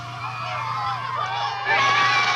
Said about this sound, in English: I thought people were screaming in fear and agony. They were cheering.